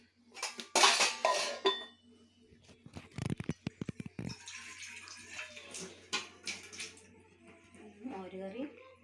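A pan and metal utensils clatter on a kitchen stove in sharp bursts of clanks and scrapes, with running water and a person talking in between.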